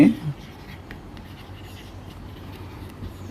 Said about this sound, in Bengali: এই কথাটা আমরা লিখবো এখন।